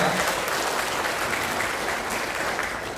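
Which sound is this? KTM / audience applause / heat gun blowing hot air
audience applause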